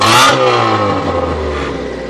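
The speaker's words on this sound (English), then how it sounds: "So you know we have to do the exhaust test." A Honda car engine revs loudly during an exhaust test at a repair shop, a sharp rev at the start settling into a steady, rumbling idle close by.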